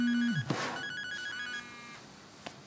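A telephone rings with a short electronic tone sequence, fairly close and clear in a quiet room, and a brief click follows near the end.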